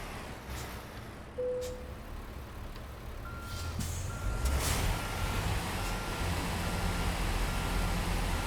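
Reversing beeps from a truck in American Truck Simulator: a steady, evenly spaced electronic beep tone over a rumbling engine that grows louder, with a brief air-brake hiss early on.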